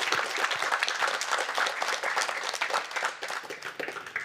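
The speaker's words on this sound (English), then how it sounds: "I think we should have a round of applause there for you." An audience at an awards event applauds steadily for about four seconds, a dense, even patter of many hands clapping that fades a little toward the end.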